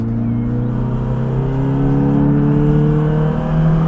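Alfa Romeo Alfasud Sprint Veloce engine revving up from inside the cabin, a steady loud drone with rising harmonic tones as the revs climb over about four seconds, no talking.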